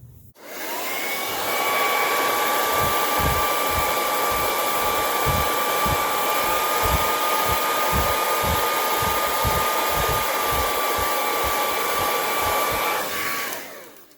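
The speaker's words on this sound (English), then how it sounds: "I got my blow dryer and I am just heating it up" A blow dryer runs steadily for about fourteen seconds, heating a glued, stuck panel on a game controller joystick during a repair, its loud continuous whine starting and stopping cleanly, with faint rhythmic knocks underneath.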